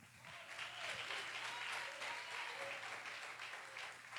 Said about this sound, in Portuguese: Dá palmas para Jesus.